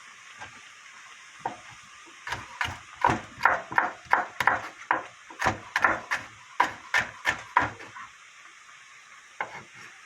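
A quick run of crisp, knocking knife chops julienning vegetables on a board, about a dozen in a steady rhythm, with a pause and one last cut near the end.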